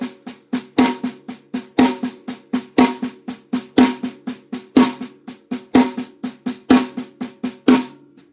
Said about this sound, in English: So on the snare drum, if I'm just accenting every quarter note while playing 16th notes, it's going to sound like this.